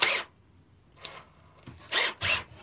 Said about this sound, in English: Get a bigger drill bit.